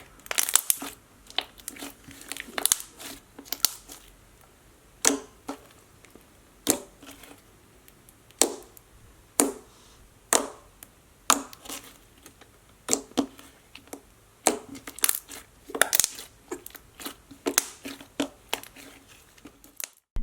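Clicky slime is squeezed and stretched close up, giving irregular sharp clicks and bubble pops scattered over quiet gaps, crisp and near.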